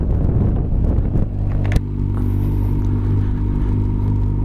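A Yamaha TMAX motor scooter underway on a hot day, giving a steady low engine rumble with a smooth drone and wind buffeting the microphone, plus one brief knock partway through.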